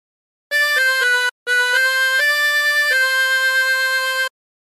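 A 20-hole tremolo harmonica plays a phrase with short opening notes, a brief pause, then longer held reedy tones with a shimmering tremolo, near and clear.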